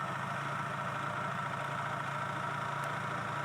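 A motorbike engine idles steadily with a low, even hum while its chain is scrubbed with a brush, the running sound constant and moderately quiet throughout.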